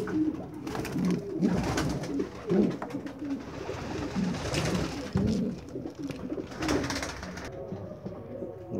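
Domestic homing pigeons with newly hatched squabs in a loft make repeated soft, low cooing calls, close to the microphone and steady across the whole stretch, with no talking.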